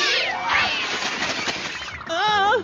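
A cat meows loudly in a few drawn-out, wavering calls, with a sharper, higher meow near the end and faint voices in the background.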